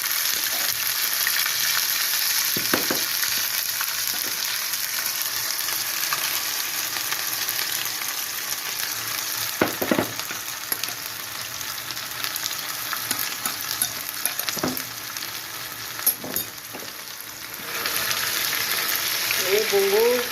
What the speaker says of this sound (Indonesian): Kita tumis semua ya guys.